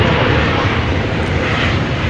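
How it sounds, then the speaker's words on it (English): A Spirit Airlines Airbus A320neo jet airliner roars loudly and steadily at DFW Airport, a close, continuous engine rumble that fills the whole moment. "Flight 761 is going to San Jose, California. It's an Airbus A320 Neo."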